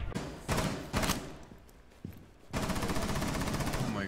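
Bursts of automatic gunfire in the shooter game Rainbow Six Siege rattle out loud and close: two short volleys, a brief lull, then a sustained rapid stream of shots.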